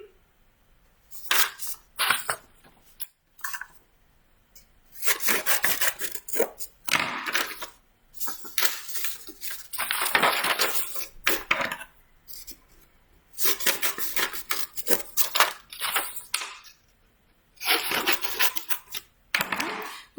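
Paper building pieces for a model house being cut out, irregular bursts of crisp snipping and rustling with short pauses between, close and fairly loud, no talk.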